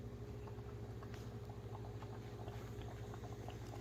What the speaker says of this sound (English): that is boiling up well